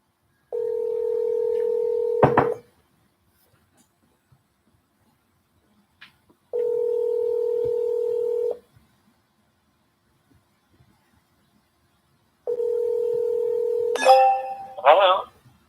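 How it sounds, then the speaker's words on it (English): Ringback tones from a phone call placed through a 3-line dialer: three evenly spaced two-second rings with silent gaps, then a brief voice answering at the end. "The phone's ringing."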